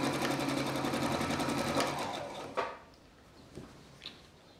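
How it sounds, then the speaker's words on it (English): A sewing machine stitches deckchair fabric in a fast, rapid-fire run that stops abruptly, followed by a few faint handling clicks. "Now, I am cheating and using a sewing machine here."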